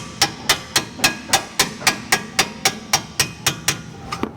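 A hammer whacks a suspension bolt through a lower control arm during a rear coilover install on a VW Rabbit, about fifteen sharp metallic strikes at a steady rhythm, close and loud with nothing else heard.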